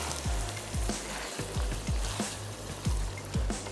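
Peas stirred into minced meat keema in a hot pan, a steady sizzle with repeated scraping strokes of a spoon at a regular rhythm, close and moderately loud with no voices.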